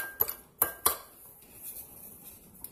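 Spoon clinking against a bowl while dry rub spices for chicken inasal are mixed, three quick sharp taps up close, then quieter faint scraping, with no talking.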